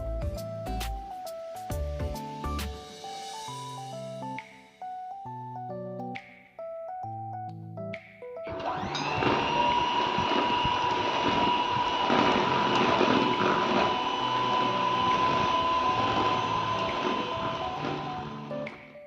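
Electric hand beater whipping egg yolks and sugar for a Black Forest cake batter, a loud steady whirring drone that starts partway through and runs unbroken, near and dominant, after an opening stretch of plucked music.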